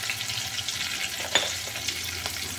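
Steady sizzling of a potato and poppy seed curry with tomato and salt, stirred in a pan, with occasional soft scrapes and clinks close by.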